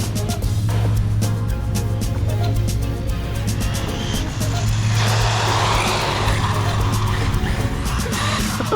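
An Arrma Typhon TLR tuned RC buggy drives nearby, its electric motor whining steadily with rising and falling pitch, tyres scrabbling and clicking over the surface, with no talking.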